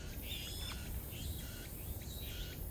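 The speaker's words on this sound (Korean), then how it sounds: "아름다운 새들의 소리, 숲과 어울려서 아름다운 모습을 연출해주는" Birds sing in a forest, with repeated high whistled calls over a steady, noisy background; no voices.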